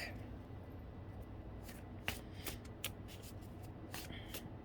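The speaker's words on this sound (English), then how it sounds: "So I noticed the bottom of the deck right before I started shuffling" A deck of tarot-style cards being shuffled, giving soft, steady riffling and rustling close by with a few sharper snaps and taps of the cards, quiet and alone with no talk.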